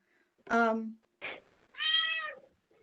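A cat meows three times, the first long and drawn out, the second short, the third rising and fading, each close and clear against a quiet background.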